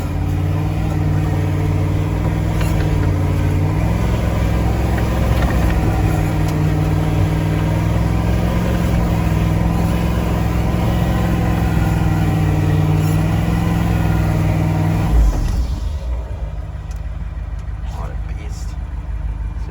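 A 1977 Ford F150 pickup's engine runs loud and close with a deep, steady, droning hum. Voices are mixed in, and after about fifteen seconds the engine noise drops away sharply to a low, quieter background.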